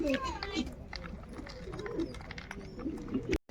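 Pigeons cooing repeatedly at a feeding spot where grain and water have been put out, with soft chirps from other small birds mixed in, close and steady.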